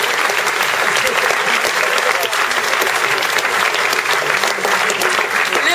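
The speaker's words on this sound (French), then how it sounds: "On les applaudit une dernière fois." Dense, steady applause from an audience at a school talent show, honoring the contestants, continuous and fairly loud throughout with no pauses.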